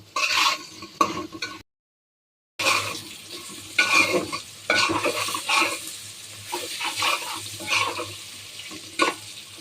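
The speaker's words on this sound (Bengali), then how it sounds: "মশলাগুলি মিশিয়ে নিচ্ছি আর এটা ভাজা ভাজা করে নেব" Slices of pointed gourd fry with spices in a pan, a steady sizzle broken by scraping and stirring clatters, briefly cutting out before resuming close up and loud.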